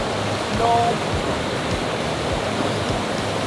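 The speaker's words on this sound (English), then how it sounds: "You're in a waterfall." At Granite Falls, a waterfall pours into a pool with a dense, steady rushing roar, close and unbroken throughout.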